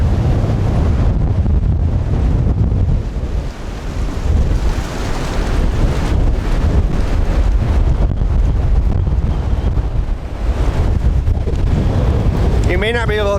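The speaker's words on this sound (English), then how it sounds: "it's quite windy today" Strong wind roars steadily and loudly throughout, a constant gusty rush with deep rumbling buffeting.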